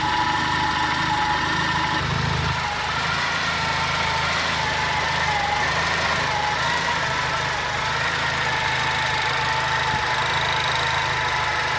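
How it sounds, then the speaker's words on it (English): A Mitsubishi GH Sigma engine idles steadily, close and loud, with a light chain clatter running under the even, continuous running note. "Bit of chain clattering, but I reckon it's alright."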